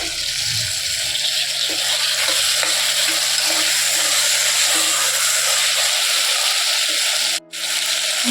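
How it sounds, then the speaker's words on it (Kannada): Toor dal frying in a pan with tomato and onion gives a loud, continuous sizzle with steady stirring scrapes close by, running without pause. "ತೊಗರಿ ಕಾಳು ಒಂದು ನಿಮಿಷ ಚೆನ್ನಾಗಿ ಫ್ರೈ ಮಾಡ್ಕೊಂಡಿದ್ದೀನಿ"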